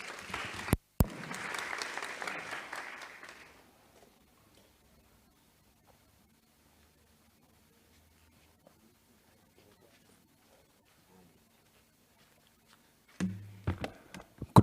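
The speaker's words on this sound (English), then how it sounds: "Can you please give Ntate Mahlatsi a huge round of applause?" Applause from the floor at an extraordinary council meeting of the City of Johannesburg: a brief burst of clapping that fades within a few seconds into near silence, with a short rustle of renewed clapping near the end.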